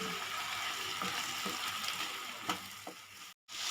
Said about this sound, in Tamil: இப்போ வெங்காயமும் தக்காளியும் நல்லா வதங்கி வந்துடும்.